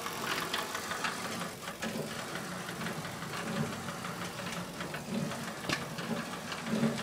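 Motor driving a homemade trommel, mounted low and turning the drum straight off a wheel, runs steadily with a knocking, rattling mechanical drone throughout, fairly close and alone.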